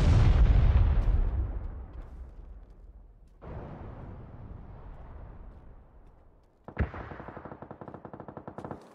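Gunfire and explosions in PUBG: a loud blast rolls off at the start, a second boom follows, then a sharp shot leads into a rapid automatic burst, all close and dominant.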